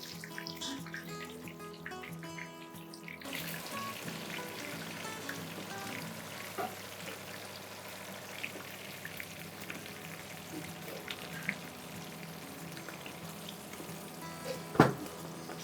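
Curry leaves, green chillies and dried chillies fry in hot oil with steady sizzling and crackling, fairly quiet, with a brief clatter near the end and no talking.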